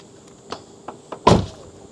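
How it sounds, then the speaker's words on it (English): A Tesla Model 3 car door shuts with a single solid thump after a few faint clicks and rustles, close and fairly quiet. "I'm going to step back here and then shut the door"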